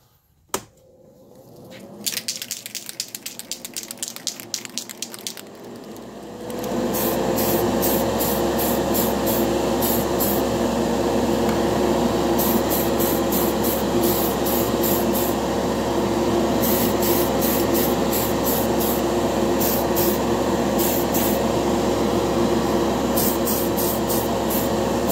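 Primer sprays from an airbrush onto a brass steam locomotive model: after a few sharp clicks and short bursts, a loud, steady hiss runs continuously for the rest of the clip.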